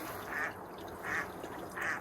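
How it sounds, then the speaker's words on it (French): Ducks quack three times at an even pace in Québec, each call a nasal honk at moderate distance, over a soft steady background hiss. "Avec un magnifique bruit des canards."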